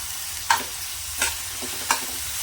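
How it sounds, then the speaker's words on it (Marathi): Onion lightly frying in a pan, a continuous gentle sizzle with three distinct spatula scrapes spaced through it, close and fairly loud. "कांदा आहे ना आपल्याला हलकासा भाजून घ्यायचा"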